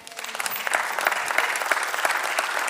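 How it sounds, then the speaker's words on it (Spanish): A church congregation applauds during a sermon, a dense, steady wash of many hands clapping together that swells slightly and keeps going without pause. "Denle un aplauso al Señor."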